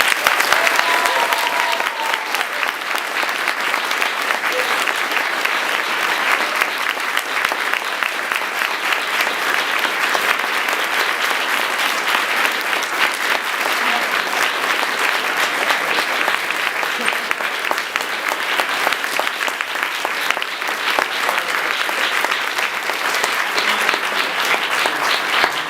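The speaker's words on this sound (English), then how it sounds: "if we can give them a round of applause" A large audience gives a long, sustained round of applause at a short-film DVD dedication, dense and loud clapping that stays steady from start to finish with faint crowd noise mixed in.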